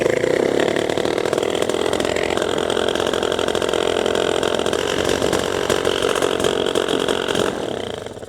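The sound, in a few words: paramotor PPG engine idling at high revs, Walbro carburetor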